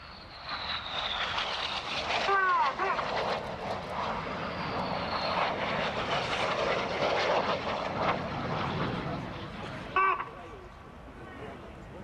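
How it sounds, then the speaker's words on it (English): Red Arrows jets in a low synchro pass about 100 feet over the runway at an air show, a loud sustained roar that builds and holds for the whole stretch, with a commentator speaking over it throughout. "Synchro are now closing at over 800 miles an hour, just 100 feet above the runway,"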